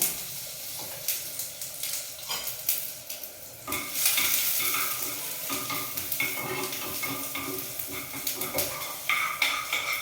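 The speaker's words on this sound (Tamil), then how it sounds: "கொஞ்சமாக நெய்யில் கொஞ்சமாக கருவேப்பிலை தாளிக்கும்" Tempering of curry leaves and asafoetida sizzles and crackles loudly in hot ghee, with scattered pops and occasional stirring scrapes, close by and continuous throughout.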